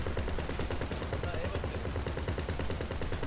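Rapid gunfire rattles continuously in GTA 5, a fast, even stream of shots at moderate loudness with no pauses.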